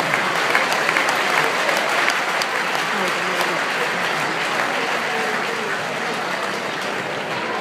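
A theatre audience applauds a legend of Romanian theatre and film, with dense, sustained clapping filling the hall at steady loudness throughout. A voice speaks over the applause.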